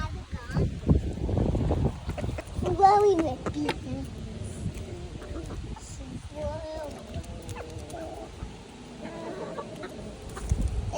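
Chickens cluck and murmur nearby in short scattered calls, with rustling and faint voices in the background.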